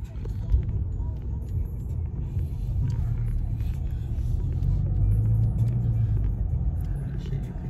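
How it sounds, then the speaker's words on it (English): A car engine, a V6, roars steadily as a low, continuous rumble from inside the vehicle, holding a constant drone with slight rises in strength throughout. "you can hear the engine roaring, dude"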